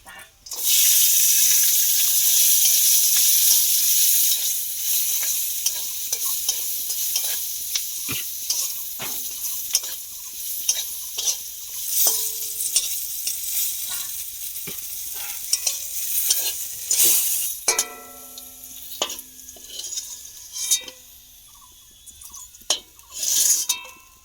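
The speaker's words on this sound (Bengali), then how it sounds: "কটা রসুনের পাক আর চারটে কাঁচা লঙ্কা আর এই কটা শুকনো লঙ্কা ভেজে নেবো" Garlic, four green chillies and a few dried chillies frying in a pan, a loud sizzling burst at first that settles into a softer crackle with repeated stirring scrapes and clinks, and a voice speaking briefly.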